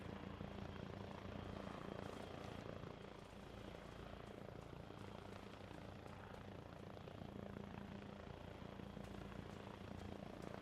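A helicopter in a military simulation game produces a steady, loud rotor and engine roar with continuous chopping thrum that fills the whole stretch without fading.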